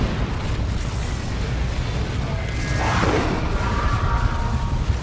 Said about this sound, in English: Orbital Bombardment.